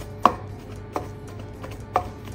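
Beef being pounded with salt to make fermented sausage: three sharp, dull thuds spaced roughly a second apart, close and fairly loud, with no talking.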